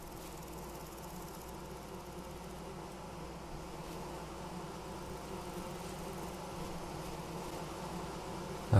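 Steady insect buzzing of bees in the game Vintage Story, a continuous low drone holding at an even level throughout with no talk, ending in a brief sharp bump.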